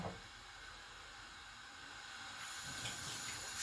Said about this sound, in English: You wash your hand because we are going to be doing it with our hand.